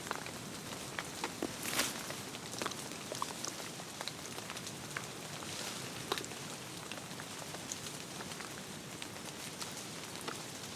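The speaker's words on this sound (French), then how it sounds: "Ce n'était qu'une grosse pluie" Steady, dense heavy rain in Madagascar patters across the whole stretch, with scattered sharper drops and splashes standing out against a constant wash of noise.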